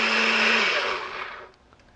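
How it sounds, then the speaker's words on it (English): A blender whirs at full speed, blending coconut oil and grass-fed butter into coffee, then spins down and stops, loud and close. "Add it into a blender. Quickly blend this, and it creates a latte-like drink."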